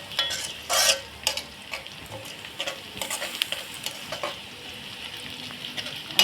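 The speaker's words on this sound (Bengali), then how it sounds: "গরম মশলাটা একটু ভাজা হয়ে গেছে।" Whole garam masala spices, including nutmeg and mace, fry in hot oil for a shahi korma, a steady sizzle broken by repeated scraping and clinking stirs in the pan.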